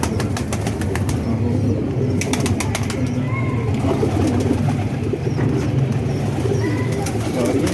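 Pigeons cooing on a rooftop loft with a pigeon club, low soft coos repeating steadily alongside wing flaps and faint chirps, moderately near with background murmur.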